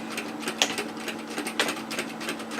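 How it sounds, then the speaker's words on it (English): A home sewing machine makes a couple of quick stitches straight over an existing stitch line on a woven kimono robe sleeve, giving a soft, steady mechanical whir with faint rhythmic ticks, close by and with no voices. "I'm just stitching directly on top of the stitching line here"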